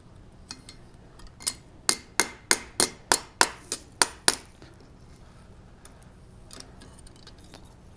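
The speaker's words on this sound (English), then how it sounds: "give little taps to straighten everything out" A blacksmith's hammer gives a knife blade little taps over the hardy hole to straighten it, a quick run of about ten sharp, ringing metallic strikes in a steady rhythm, close and clear in a quiet shop at Sutter's Fort.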